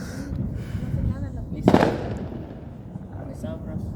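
Fireworks bursting outdoors on the Fourth of July in America: one loud crackling blast stands out over a steady low rumble of distant pops, with people talking throughout.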